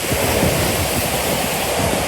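A waterfall in Skipton Castle Woods gives off a constant, dense rushing roar, loud and close, with no break.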